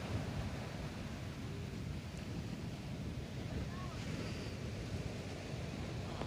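Large ocean waves roll onto the coast of San Antonio, Zambales after a typhoon, a steady wash of surf mixed with wind buffeting the microphone, continuous and moderately distant.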